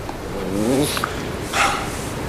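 A dog gives a couple of barks and yips in a snowy, icy setting, fairly close and moderately loud, with no talking over it.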